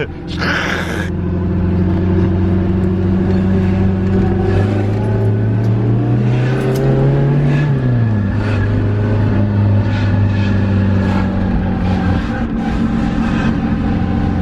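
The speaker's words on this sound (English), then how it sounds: "we're going to take the van for a frap" A van out on a test drive, its engine droning loud and steady from inside the cab, with a brief swell in pitch partway through before it settles back.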